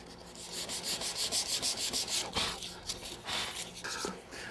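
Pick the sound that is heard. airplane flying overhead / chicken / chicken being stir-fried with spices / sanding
sanding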